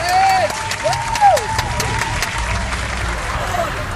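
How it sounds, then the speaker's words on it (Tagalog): Crowd applause and cheering rise up in a comedic parody skit, a broad clatter of clapping heard under an excited, drawn-out voice and some background music. "Palakpak!"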